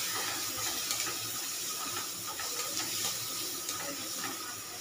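Light water poured into a pan of fish curry base with yogurt and green chilli paste, a steady broadband splashing rush that runs evenly throughout, close and fairly loud, with no talking.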